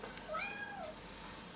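A striped cat at an animal shelter gives one drawn-out, wavering meow, close but soft, over a faint background hiss.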